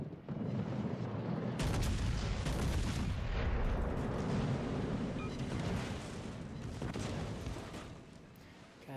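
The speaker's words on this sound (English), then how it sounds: "Who's shooting? That's gotta be the Gneisenau." Heavy naval guns of the battleship Gneisenau boom in a video game, a dense rumbling barrage of loud low blasts that rolls on for several seconds before fading.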